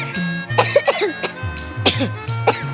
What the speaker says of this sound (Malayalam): ചുമ ഇതുവരെ മാറിയില്ലേ?